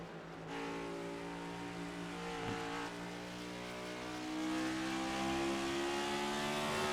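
An iRacing Cup Series stock car at Watkins Glen dropping through the gears into the bus stop chicane, a steady buzzing engine tone that dips briefly and then settles into a fuller, louder drone, with no voices.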